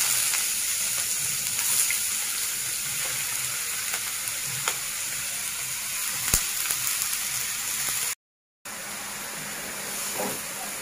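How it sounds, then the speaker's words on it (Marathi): Grated bottle gourd frying in hot ghee, a steady broadband sizzle with scattered crackles and pops that runs evenly throughout, with a brief dropout near the end. "त्या तुपाच्या फोडणीवर आपण हा किसलेला जो दुधी आहे तो आपल्याला टाकायचा आहे"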